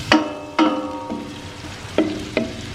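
Onion, garlic and pork cubes fry in a pan while being stirred, with a handful of sharp utensil knocks over a steady sizzle, close and clear.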